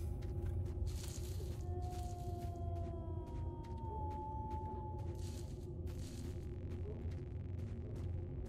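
Dogs howl in S.T.A.L.K.E.R.: Shadow of Chernobyl. A long, falling howl glides down over a heavy rumbling game ambience, with scattered sharp clicks and crackles, and no one speaks.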